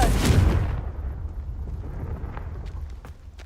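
A Confringo fire spell bursts in the Hogwarts Legacy video game with a loud explosive boom at the start, then a rumbling roar that fades slowly, with a few faint crackles near the end.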